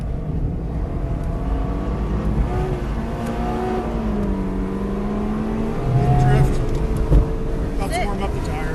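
In-car ride in a Mustang during an SCCA time trial at a Texas track: the engine drones and climbs as the car accelerates out of corners, a voice talking over the steady engine noise.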